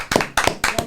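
A few people clap for a round of applause during a podcast recording, about three sharp close bursts of hand claps separated by short gaps.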